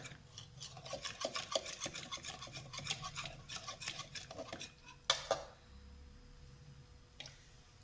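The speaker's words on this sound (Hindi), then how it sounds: "हमने इसको अच्छी तरह फेंटना है इसको" A hand whisk beats homemade cake cream made from milk in a bowl, producing fast, rhythmic scraping and rasping strokes close up. A sharp clink follows, and then the sound turns quieter.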